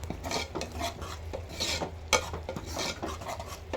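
A spoon or spatula stirs masala and homemade gravy powder in a pan for prawn gravy, making soft scraping and rasping strokes in an irregular rhythm, close and moderately quiet, with no talk.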